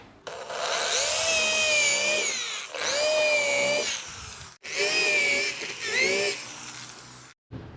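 A power drill bores holes into a wooden sofa frame, with four loud sustained whining bursts whose pitch dips as the bit bites into the wood, separated by short pauses, close up.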